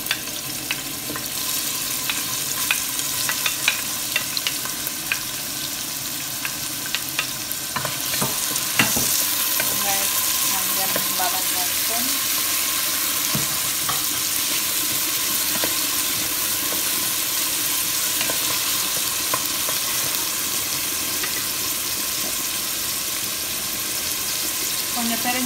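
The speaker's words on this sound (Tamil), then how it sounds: "வெங்காயமும் பெருஞ்சீரகம் சேர்ந்து வதங்குது" Red onion and fennel seeds fry in a pan for Sri Lankan chicken curry, giving a continuous bright hiss with a few clinks and scrapes of stirring partway through.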